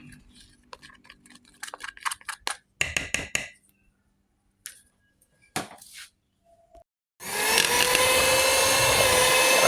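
Powdered sugar and margarine being beaten by an electric hand mixer at speed 1, preceded by scattered clicks and knocks of handling, then a loud steady motor whir that starts abruptly and runs to the end.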